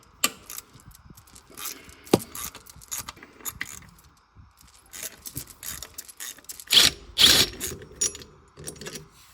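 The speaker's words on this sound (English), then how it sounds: "we're going to begin by removing these 2 bolts in the center, along with these 3 13mm" A ratchet and loose tools work on 13mm transmission mount bolts under a B8 Audi A4, giving scattered metallic clicks, jangles and scrapes in irregular short bursts, close by.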